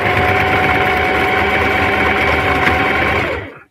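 A Singer Heavy Duty sewing machine stitching down fabric pieces for a crossbody bag runs loud and close in a fast, even motor whir, then stops abruptly just before the end.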